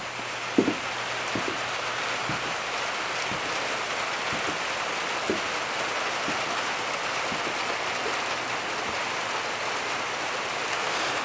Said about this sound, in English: It's the first substantial rain I've been here when entire roof's on.